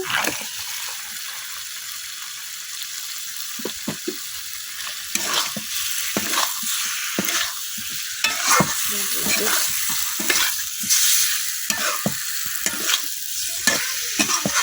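Chicken feet frying with masala in a hot pan, a loud, continuous close sizzle broken by frequent stirring scrapes and clatters of the spoon against the pan.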